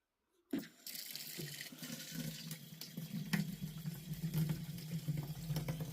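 Water pours steadily from a tap outdoors on an icy, cold day at a chicken coop, a continuous splashing rush that starts abruptly and holds at a fairly close, even level, with no voices.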